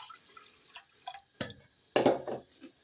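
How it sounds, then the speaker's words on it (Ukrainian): Milk pouring into a pot of rinsed rice for pumpkin porridge in short splashing bursts, a light trickle first and then a fuller, louder pour, close by with no talking. "теж заливаю молоком"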